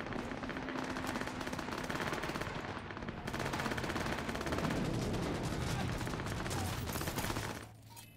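Rapid automatic gunfire rattles almost nonstop in Cyberpunk 2077, with loud dense bursts that swell midway and then cut off abruptly near the end.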